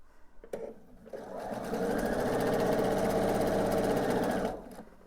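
A sewing machine runs a quarter-inch seam through pinned quilt pieces, starting with a few clicks, then a steady close whirring hum for about three seconds before stopping.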